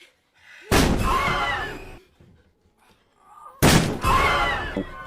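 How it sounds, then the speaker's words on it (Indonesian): A psychopath tries to break down a door in the 2006 film Cold Prey. Two heavy, loud blows land close by, each ringing on for over a second, with a quieter stretch between them. "Psikopat itu pun berusaha untuk mendobrak pintu."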